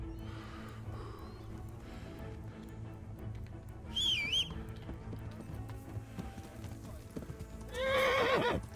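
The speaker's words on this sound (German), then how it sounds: "Wo ist mein Pferd?" Horse in the Kingdom Come Deliverance video game arriving, with steady clip-clop hooves and two loud neighs, one midway and one near the end, over a soft game background.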